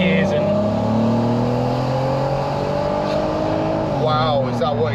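An Audi TT 3.2 with DSG gearbox accelerates steadily, its engine note climbing and then dropping as it shifts up, heard from inside the car with people talking over it.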